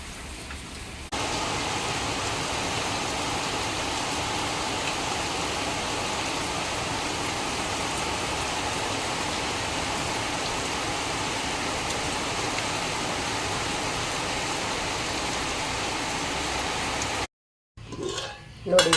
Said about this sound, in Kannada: ನಿಮಗೆ ತೋರಿಸ್ತೇನೆ ಯಾವ ಥರ ಇವತ್ತು ಮಳೆ ಬರ್ತಾ ಇದೆ ಅಂತೇಳಿ